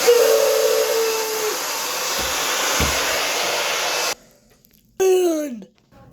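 Cartoon hair dryer from SpongeBob blows with a loud, steady whooshing hiss and a brief whistling tone at the start, cuts out abruptly, then roars back with a falling whine before stopping.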